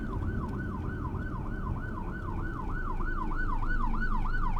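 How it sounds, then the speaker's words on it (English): An ambulance siren wails in a rapid rising-and-falling cycle, fairly distant, over road noise, growing slightly louder toward the end. "Oh, it's an ambulance."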